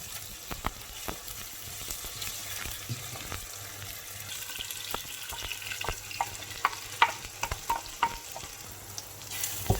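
Frozen ginger sizzles steadily in a stew pot while being stirred, with scattered clicks and scrapes of the utensil against the metal. There is no talking.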